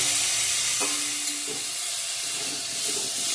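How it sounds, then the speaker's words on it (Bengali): Potato and cauliflower fry with spices in a pan under a continuous hiss and sizzle, with a few faint clinks of stirring, close and steady. "ভালো করে মশলার সঙ্গে কষিয়ে নিচ্ছি আলু ফুলকপি"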